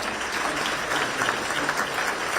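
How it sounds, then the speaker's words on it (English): Round of applause for members of the House at a political party dinner event, a steady dense wash of clapping from a large audience throughout. "Give me a round of applause for the"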